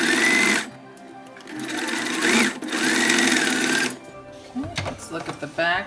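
Sewing machine stitching a newborn onesie: bursts of rapid mechanical whirring, close and loud, separated by pauses, with a brief stretch of choppy stop-start stitching at the end.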